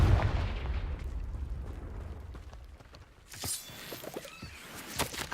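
Confringo fire spell in Hogwarts Legacy, heard as a booming blast at the start that fades into a low rumble, then a crackling burst of debris and magic effects after a brief lull.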